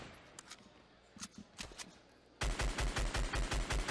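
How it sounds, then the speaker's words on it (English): Assault rifle fire in Fortnite: scattered faint shots first, then a loud, rapid, evenly spaced burst of about a dozen rounds in the second half. "Even when he's shooting with just the assault rifle."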